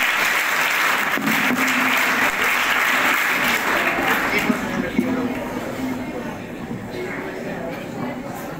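Audience applause at a school Diwali celebration program, dense sustained clapping from a crowd indoors, steady and loud throughout, fading slightly toward the end with faint voices underneath.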